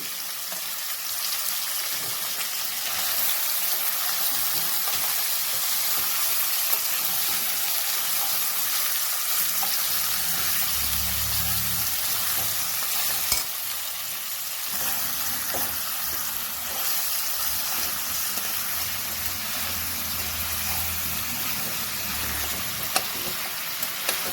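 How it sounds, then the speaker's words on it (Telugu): Half a kilo of chicken, washed with turmeric and lemon, sizzles steadily in a hot pan for a village-style chicken curry, a continuous loud frying hiss with some stirring, no talking. "ఇప్పుడు కడిగి పెట్టుకున్న చికెన్ వేస్తున్నానండి."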